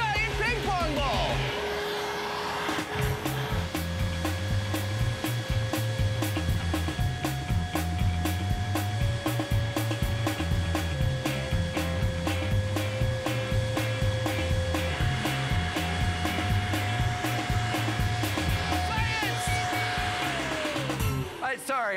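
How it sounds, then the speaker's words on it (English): A giant hair dryer blows as a loud, steady roar that runs without pause for over twenty seconds, with sustained droning pitches and rhythmic low pulsing underneath, close and dominant. "we have to max it out with a giant hairdryer and a giant ping pong ball"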